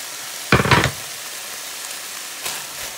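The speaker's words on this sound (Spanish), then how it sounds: "Primero van los hongos y luego le agregamos las espinacas." Mushrooms and spinach drop into a pan of frying pork steak in green sauce, giving a brief loud sizzling burst followed by a faint second hiss against a quiet background.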